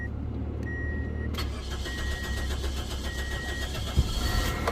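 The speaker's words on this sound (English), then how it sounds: "Now let's go ahead and see if she cranks, man." A 2003 Pontiac Vibe's 1.8L engine turns over on a newly replaced starter, with a click, then a short cranking whir that catches into a steady running idle, heard close by with no talking.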